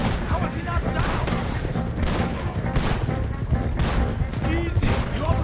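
A gunfight in Red Dead Redemption 2, loud rapid volleys of gunshots cracking continuously and overlapping as shouting voices call out over the firing.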